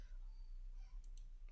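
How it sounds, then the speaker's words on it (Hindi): A computer mouse is clicked a few times in quick, faint ticks near the end, set against a quiet room hum with no speech. "इस पर आपने क्लिक करना है और नेक्स्ट"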